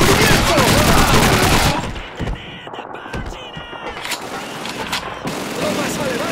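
Loud, dense MG-42 machine-gun bursts and battlefield gunfire in the Call of Duty 2 video game campaign, heaviest at the start, then thinner scattered shots and blasts, with shouting voices in the mix.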